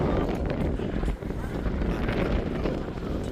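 Strong gusty wind roars against the microphone, a constant low buffeting rumble that rises and dips across the few seconds.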